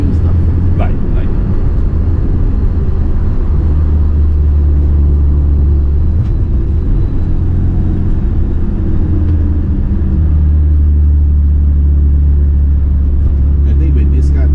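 A BMW 2002 Tii Turbo on the road, its mechanical turbo setup humming as a steady low rumble of engine and drivetrain with drive shaft noise, continuous and fairly loud from inside the cabin, with people talking over it.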